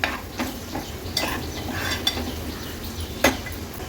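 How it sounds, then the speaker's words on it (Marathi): Turmeric and homemade Agri Koli masala stirred and fried in oil in a pan, with soft sizzling under intermittent scrapes and clinks of a spoon against the pot, close and fairly quiet. "हळद आणि मसाला तेलावर छान परतून घ्यायचा"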